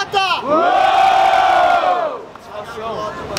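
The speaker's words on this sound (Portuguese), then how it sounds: "Barulho pras rimas do HJ" A crowd at a Brazilian rap battle erupts in loud cheering and shouting for a rhymer, sustained for about two seconds before easing, then rising again more softly.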